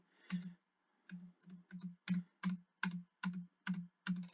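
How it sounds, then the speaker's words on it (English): Computer keyboard keys are tapped one at a time in an even rhythm, about ten close, crisp clicks, as if the spacebar is being pressed repeatedly with no speech. "I can just spacebar over forever"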